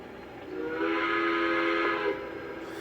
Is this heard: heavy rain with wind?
no